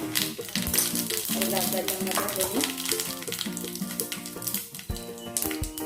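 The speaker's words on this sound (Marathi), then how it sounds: "मोहरी टाकून घेऊ जिरा टाकून घेऊ" Mustard seeds and cumin sizzle and crackle in hot oil while taro root (arbi) bhaji is being made, a steady busy frying hiss that runs throughout beneath prominent background music.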